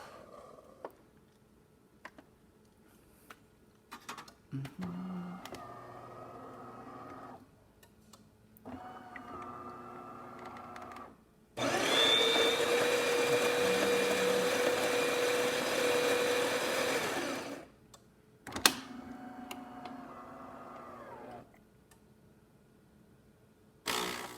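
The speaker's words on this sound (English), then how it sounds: "just to test it out, this is just a one shot of espresso" A DeLonghi espresso machine pulls a single one-ounce shot, its pump droning loud and steady for about six seconds with a thin tonal whine, set between quieter clicks and handling sounds.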